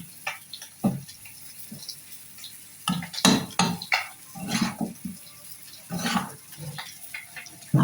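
A spoon scrapes and clatters intermittently in a pan of frying potato and shrimp, irregular knocks and stirs over a quiet background sizzle.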